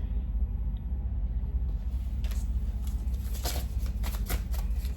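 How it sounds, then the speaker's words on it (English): Cards are riffled and shuffled in a few quick bursts over a steady low background hum, close and fairly quiet. "I keep shuffling the cards"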